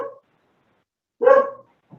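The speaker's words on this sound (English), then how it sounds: "my dog started barking right in the middle of that" A dog barks indoors, one short bark followed by a louder, longer bark and a faint brief yip, fairly close, with silence between.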